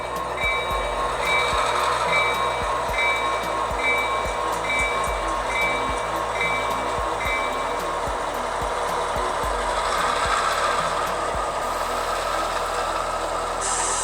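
A hauler locomotive pulling out of a rail yard with a line of cars, a steady loud rumbling drone with rhythmic clunks and rattles of rolling wagons, faint air-brake hiss and high squealing tones throughout.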